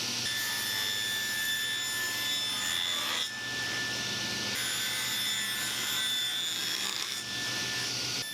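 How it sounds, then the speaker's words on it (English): Steady hand sanding of wood pieces, a continuous dry rasping scrape with brief pauses around three and seven seconds, fairly close and moderate in level. "lightly sanding each of the pieces"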